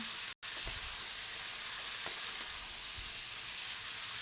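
Mixed vegetables and green chillies fry in a pan, giving a steady, close sizzle with a few faint stirring clicks and scrapes underneath and a brief dropout near the start.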